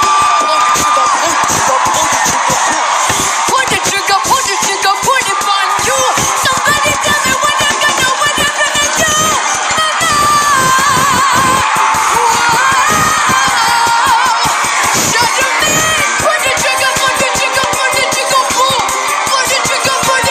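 A live audience loudly cheering and screaming during a performance, a dense, sustained roar of shouts and whoops, with some voices mixed in.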